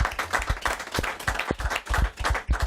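A room of people at a football club event gives a round of applause for the player of the week, brisk uneven clapping with loud individual claps standing out, lasting a few seconds without talk.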